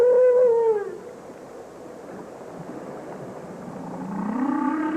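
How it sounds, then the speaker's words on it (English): Humpback whale song: a long, loud, falling moan at the start, then quiet ocean hiss, then a second rising tonal call swelling near the end. "one of those Earth sounds is the song of the humpback whale"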